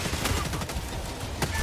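A rocket devastator weapon fires in a video game, producing a dense burst of rapid, crackling blasts that fill the short moment.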